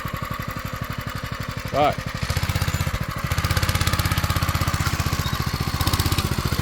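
Small homemade mini tractor engine thumping in a rapid, steady pulse, then revving up louder and faster as it accelerates, close by, while a man gives spoken instructions over it.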